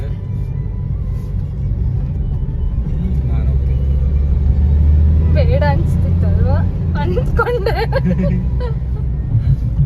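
A road vehicle rumbles past nearby, a loud low drone that swells midway, while voices talk over the traffic noise.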